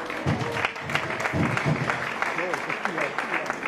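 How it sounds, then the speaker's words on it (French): Applause from a congregation during a worship service in Belgium, steady dense clapping under a voice speaking loudly over it. "Acclamons encore une fois."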